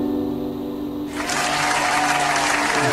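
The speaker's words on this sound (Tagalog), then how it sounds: "Background music at the same time, may background na palakpak." A crowd-applause sound effect triggered during a StreamYard live stream swells in at full, dense clapping after a second of background music and keeps going loud and steady to the end.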